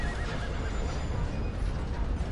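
A horse in a video game neighs loudly amid noisy game sound, a sustained whinny over dense clattering background for a couple of seconds.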